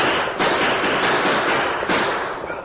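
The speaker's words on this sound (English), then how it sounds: "the masked man and Tonto drew their guns and started firing from the saddle" Gunfire effect for a radio drama, riders shooting from horseback: a loud, dense, continuous rattle of shots with brief sharper bursts, close and filling the whole clip without voices.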